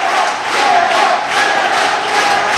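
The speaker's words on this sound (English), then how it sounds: "This crowd behind her, well over 500 fans packed in to the Asylum Arena" A packed wrestling crowd of over 500 fans in the Asylum Arena cheers and roars loudly and continuously, swelling in waves of shouting voices throughout.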